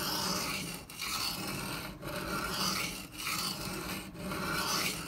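Microtech Socom Elite knife in CTS-204P steel drawn across a coarse 120 stone, five even rasping sharpening strokes about a second apart, each a gritty scrape with short pauses between, close and quiet.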